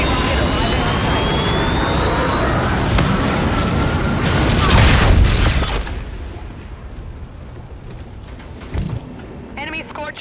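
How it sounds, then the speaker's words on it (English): A Trinity rocket strike arrives in Call of Duty: Infinite Warfare during a Domination match, a loud roaring jet-like rush that swells for about five seconds and then cuts off into quieter ambience with a brief thump near the end. "Allied Trinity rocket arriving on site"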